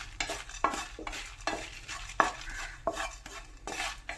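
Chili powder and spices dry-roasting in a hot pan for beef varattu, stirred with a utensil in repeated scraping strokes and clinks against the pan, a light sizzle underneath, close and fairly quiet.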